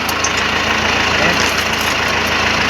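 A tractor engine runs steadily in a farm field, a loud, constant mid-pitched drone with a regular low throb throughout and no break.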